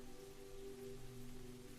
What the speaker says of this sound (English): The sound of that rain pitter-pattering against the roof and the glass